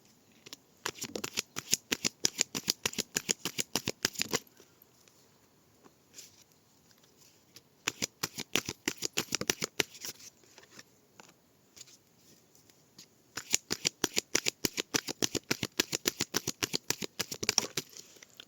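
Close riffle shuffling of a deck of astrology cards comes in three bursts of rapid crisp flicks separated by quieter pauses, with no talk over it.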